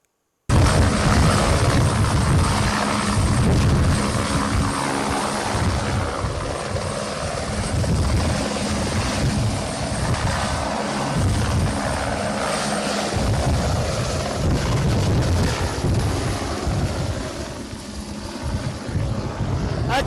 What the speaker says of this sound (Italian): le immagini del caricamento dell'acqua da parte di un mezzo, un elicottero del 112